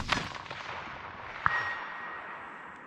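A bolt-action rifle fires a single sharp gunshot at a 420-yard target, a loud crack with a short ringing tail standing out alone against steady outdoor background noise.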